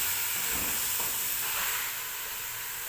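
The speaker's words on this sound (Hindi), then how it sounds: "मटर डालते हैं, डाल के इसको कुछ देर भूनना है।" Peas and mixed vegetables such as potato and carrot fry in a pan, giving a steady, loud, close sizzle with a bright hiss that eases slightly toward the end, and no talking.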